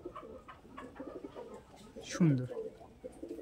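Green-eyed Madras pigeon cooing, a brief close throaty coo with a rising-then-falling swoop amid low murmured calls, while someone speaks briefly.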